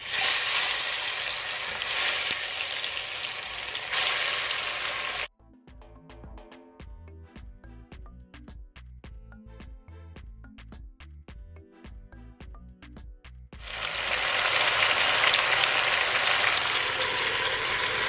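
Oxtail searing in a hot pot for Jamaican oxtail, a loud steady sizzle that cuts out mid-way to a stretch of sparse rhythmic clinking, then the strong frying hiss returns.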